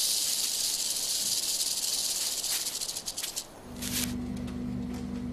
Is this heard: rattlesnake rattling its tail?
yes